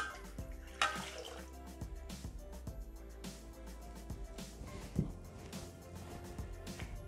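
Water splashes and trickles as it is poured into a Thermomix (Bimby) mixing bowl while cooking chicken rolls with wine, a quiet, close liquid sound with a few drips and light clinks.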